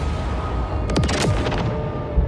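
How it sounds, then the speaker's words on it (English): Heavy naval guns on a warship fire their third salvo, several sharp cracks in quick succession over a constant low rumble, loud and forceful. "The massive guns fire their third salvo."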